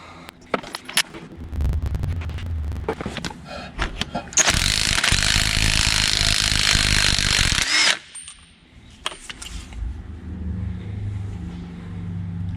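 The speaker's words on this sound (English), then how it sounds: "the first thing I'm going to do is take the spark plugs out" Metallic clinks, ratcheting and scraping as spark plugs come out of the engine of a 1961 Auto Union DKW 1000, with a stretch of loud broadband noise midway and sparse handling sounds around it.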